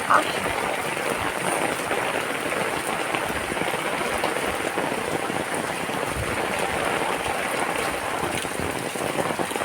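Steady rain falling outdoors on a street, a dense close hiss of drops on surfaces that continues evenly for nearly ten seconds with no pauses.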